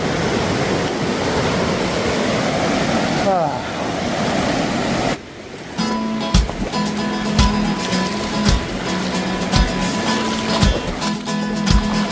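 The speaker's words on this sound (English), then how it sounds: "I'm coming up on like the 8th creek crossing in the last 5 minutes." Flowing creek water at a trail creek crossing on a Pacific Crest Trail thru-hike, a steady broadband rush that drops out briefly before a busier, clattering section with footsteps and knocks over the running water.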